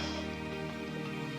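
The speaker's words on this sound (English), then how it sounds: "You can probably hear the fan going in the background." A faint, steady whir of a fan running in the background, an unbroken low hum with no other sounds.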